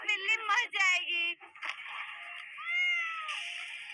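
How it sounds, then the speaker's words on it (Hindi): A cat meows several times in quick high-pitched cries, close and clear, followed by a longer drawn-out meow against an otherwise quiet background. "मेरी बिल्ली मर जाएगी।"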